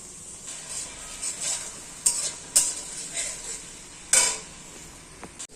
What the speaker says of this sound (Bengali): তো আমার পেঁয়াজটা ভাজা হয়ে এসছে। এবার আমি এতে আদা আর জিরের পেস্টটা দিয়ে দেব।